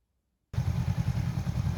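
A Honda CL motorcycle riding past, its engine cutting in suddenly with a steady mid-pitched drone and rough pulsing, close and continuous, no voices.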